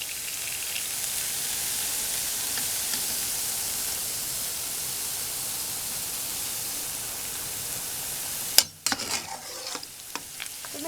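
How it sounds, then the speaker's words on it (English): Fish frying steadily in a hot pan with a dense, even sizzle for most of the length, ending in a few sharp clatters and scrapes as cooking continues. "Then after, I'll just fry the fish."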